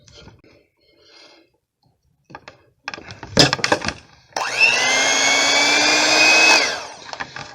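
An electric kitchen mixer switches on after some handling clatter and whirs loudly at a steady high pitch for about two seconds before spinning down.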